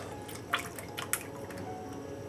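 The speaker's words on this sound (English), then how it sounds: "I'm going to drain the other one." Syrup draining from a large can of peaches, heard as a few faint, sparse drips and splashes over a soft continuous background, close and quiet.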